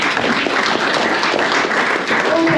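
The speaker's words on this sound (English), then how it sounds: "Give him a round of applause." Audience applause at a boxing fight-week press conference, welcoming boxer Sean McComb: dense, steady clapping from a crowd held at even loudness for a couple of seconds, with no break.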